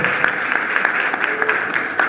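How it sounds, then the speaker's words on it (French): Audience at a youth forum in Kankan, Guinea, applauding: a short burst of dense, steady clapping from a crowd, fairly close and sustained throughout. "On applaudit très fort."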